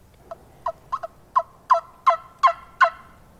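Wild turkey gobbler in spring woods, calling in a series of about seven loud, close gobbles that build in strength, with no talk over them.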